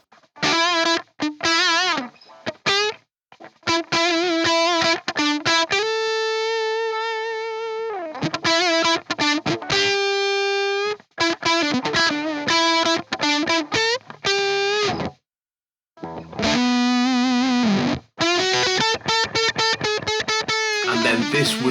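Electric guitar lead played through a fuzz pedal set fairly high, with thick, saturated bursts of fast phrases, bends and long sustained notes, and brief silences between the runs.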